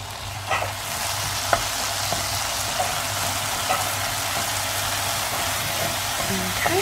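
Garlic and tomato sizzle steadily in a hot pan, a constant close frying hiss with occasional small pops and light stirring clicks.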